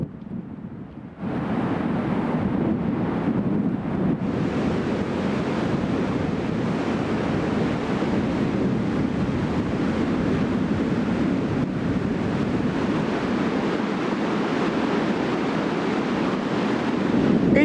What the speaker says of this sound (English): It's unbelievably windy. It's blowing about 40-50 mile an hour.